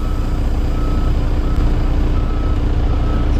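A truck's reversing alarm beeps in a steady repeated rhythm while it backs into a tight spot crowded with cars, over a constant loud engine rumble close by.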